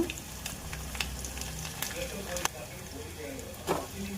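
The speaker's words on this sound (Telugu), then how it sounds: "ఒక చిన్న దానిలో చెరవలో ఆయిల్ వేసి కొంచెం ఎండుమిరపకాయలు పచ్చిమిరపకాయలు ఉల్లిపాయ తిరమాత గింజలు కరివేపాకు" Dried and green chillies, onion, cumin and curry leaves fry in oil in a small pan, a continuous soft sizzle with intermittent crackles and spatula clicks, fairly faint beneath a low background hum.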